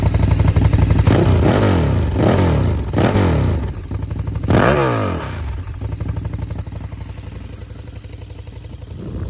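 A motorcycle engine with rattling valve stems revs hard several times in close succession, each rise and fall loud and near, then drops back to a steady, clattering idle.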